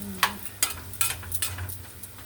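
Food frying in a pan gives a soft, low sizzle, broken by several sharp clinks and scrapes of a utensil against the pan.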